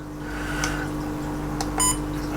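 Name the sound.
trail camera menu beep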